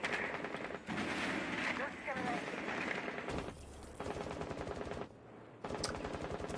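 Automatic gunfire from a Rainbow Six Siege match during a competitive esports league game, rapid bursts rattling in repeated volleys with brief pauses, dense and loud, over an energetic commentator's voice.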